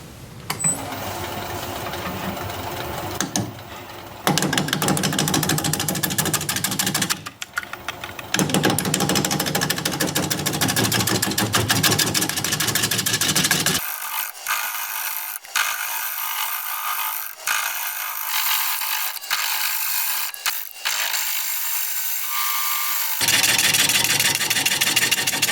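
A wood lathe spins a sycamore bowl blank at 400 RPM while a bowl gouge cuts it, giving a continuous loud whirring and scraping with frequent short breaks and changes in tone as the cuts start and stop.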